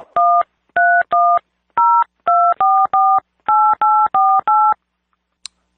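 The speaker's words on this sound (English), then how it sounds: "I'm trying to dial an outside line." Telephone keypad dialing an outside line: eleven crisp touch-tone beeps in quick, slightly uneven succession, loud and close, followed by a brief pause and a small click.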